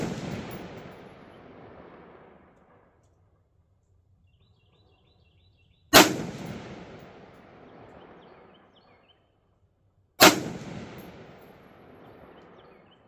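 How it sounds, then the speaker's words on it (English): Three sharp rifle shots from a Bear Creek Arsenal hammer-forged, side-charging 16-inch 5.56 upper, spaced a few seconds apart, each loud crack trailing off into a long outdoor echo. "So I loaded up 3 more and sent 3 more down at it to see what would happen"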